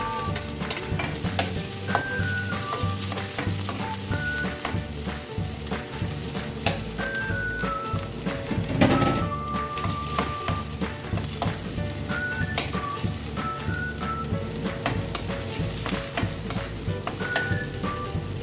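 Ginger, garlic and onion sizzle steadily in a hot pan, a loud continuous frying hiss with stirring scrapes throughout and no voices.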